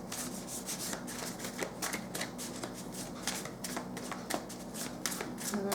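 Tarot cards are shuffled close up in a steady, continuous riffling and rubbing patter, with a soft voice faintly underneath.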